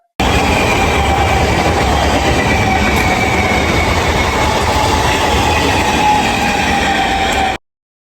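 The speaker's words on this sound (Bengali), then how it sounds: "দেখতে পাচ্ছেন এই যে ট্রেনটা আসছে" A train on the single-track line toward Namkhana in South 24 Parganas rumbles past close by, a loud, steady roar of wheels and carriages that fills the whole stretch with no talking.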